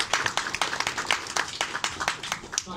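A hackathon finale audience applauds with sharp, distinct hand claps in a fairly quick, uneven rhythm, each clap standing out clearly rather than blending into a wash, with a light crowd murmur underneath.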